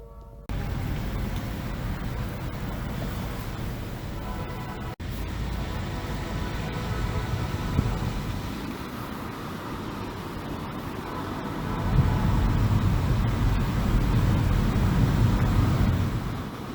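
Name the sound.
car driving around a property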